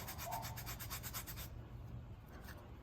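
Wet putty is rubbed and smoothed by finger on Mandalorian armor, a faint, close, rhythmic rubbing with repeated strokes that stops partway through, leaving quiet room tone.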